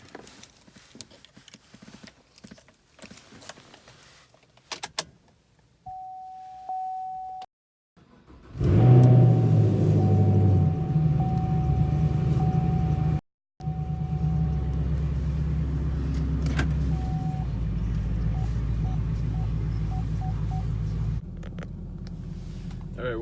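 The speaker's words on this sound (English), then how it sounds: "Wouldn't be a good day without a startup." A 2013 Chevrolet Camaro SS V8 starting up close by: a short whine, then a loud engine catch and a steady, heavy rumbling idle that keeps running after a brief drop.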